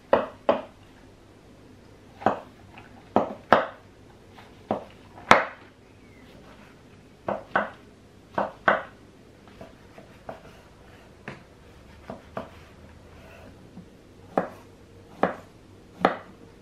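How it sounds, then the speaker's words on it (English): A small paring knife slices through freshly foraged wild mushrooms down to the base, giving crisp, sharp cuts close up, in irregular bursts with short pauses between and no talking. "I like to use a little paring knife for this job"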